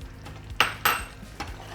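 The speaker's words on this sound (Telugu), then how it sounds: "ఫ్రై చేసి పెట్టుకున్న పన్నీర్ పీసెస్ని వేసేసుకోవడం అలాగే క్యాప్సికమ్ కూడా" Fried paneer pieces and capsicum drop into a curry pan, giving two close, bright clattering impacts followed by a lighter clink, with no voices.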